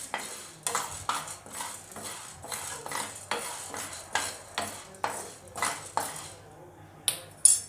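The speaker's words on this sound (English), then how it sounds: "Now we are frying the urud dal." A metal spoon scrapes and clinks against a pan while urad dal is dry-roasted for sambar masala, in a steady rhythm, about a dozen stirring strokes over a soft background hiss.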